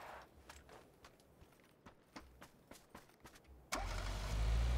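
Car in PUBG: Battlegrounds, with scattered clicks and light knocks before the engine suddenly starts and settles into a loud, steady close-up drone for the final second.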